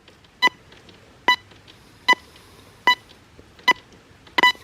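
Six sharp, evenly spaced electronic tones ring out from a Deus 2 metal detector over a quiet background hiss, each beep short, clear and near.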